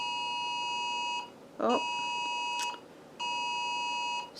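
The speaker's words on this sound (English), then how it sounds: "We have an Amber Alert going off." Amber Alert emergency tone sounding on a phone: loud, harsh repeating beeping bursts in a steady on-off pattern, with a brief spoken exclamation between bursts.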